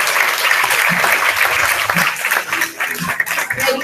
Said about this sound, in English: Let's clap very nicely as Victoria voyages down the runway